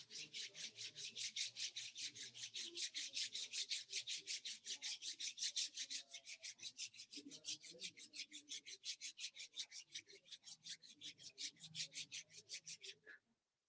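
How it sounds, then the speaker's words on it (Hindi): Both hands being rubbed briskly together, a rapid, steady back-and-forth swishing of skin on skin, close and rhythmic, with faint talk underneath, stopping abruptly near the end. "दोनों हाथ को आपस में रब कर लें।"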